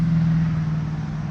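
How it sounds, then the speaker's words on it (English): Road traffic passes a front yard, a steady low engine rumble and tire roar from a nearby vehicle holding for about a second with no talk. "sorry about the traffic there"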